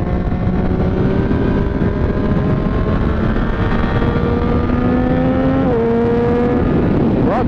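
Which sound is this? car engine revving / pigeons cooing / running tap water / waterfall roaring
car engine revving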